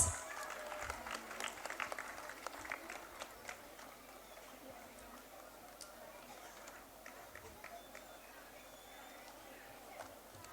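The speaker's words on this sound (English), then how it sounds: "please give a huge round of applause" Faint applause from a crowd at a school annual function, scattered claps fading gradually over several seconds, heard from a distance in a large room.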